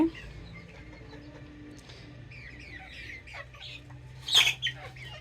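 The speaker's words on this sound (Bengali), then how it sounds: "মুরগিটা দেখলেন ওই দিন ডিম পাড়ছে" An egg-laying hen clucks softly among chirping birds, with a brief louder burst of clucking near the end.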